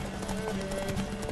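Hoofbeats of a horse racing in The Witcher 3, a steady clip-clop rhythm running continuously and fairly loud under a dense game soundtrack.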